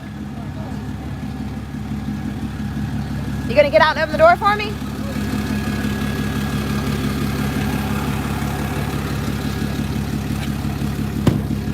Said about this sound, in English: You can hear the truck.